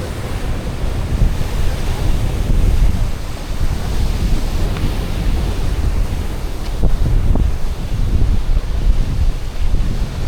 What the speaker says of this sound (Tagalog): Medyo nakakatakot yung alon.